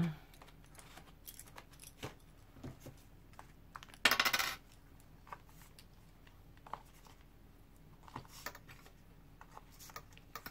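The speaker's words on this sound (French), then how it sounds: "Je vais récupérer les pinces." Metal binder clips clink and tap as they are gathered up while binding a U-bound album, sparse small metallic clicks spread out with one brief louder rattling burst, no speech.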